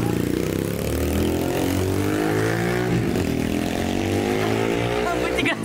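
A 125cc mini motorcycle engine runs close by, a steady loud drone with harmonic tone rising and falling as the throttle shifts, while voices talk over it.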